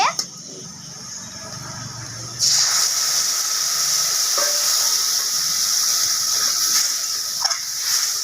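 Mustard and chili paste hits a hot pan, and a loud, steady hiss of sizzling steam begins about two seconds in and keeps going. A voice speaks faintly underneath.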